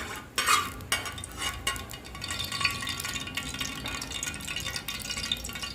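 Curry paste stir-fried in pork lard in a pan, soft scraping and stirring with a faint sizzle, close and fairly quiet, a few sharper clinks near the start.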